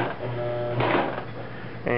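A Brother LX-3125 sewing machine stitches a shirt collar with a quick mechanical whir, briefly louder in the middle. A person talks over it throughout.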